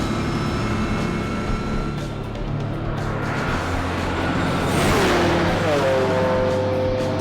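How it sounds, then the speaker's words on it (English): A 522-cubic-inch twin-turbo LMC Super Cuda accelerating hard on a track, a loud sustained engine roar with a rising whine near the end as the car pulls away. "With the massive torque of the 522-inch twin-turbo Super Cuda, it easily pulled away from the Enzo."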